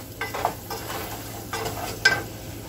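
Spoon stirring a tablespoon of brown sugar into oatmeal in a pot, a few short, soft scraping strokes with small clinks against the side, close and quiet.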